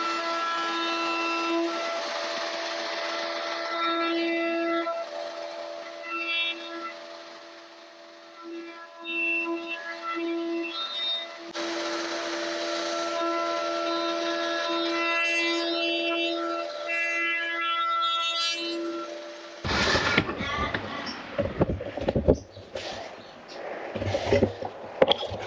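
A router cuts dovetail slots for clamps in a wooden tenon jig, giving a steady, close, whining hum for about twenty seconds before breaking into choppy, uneven bursts.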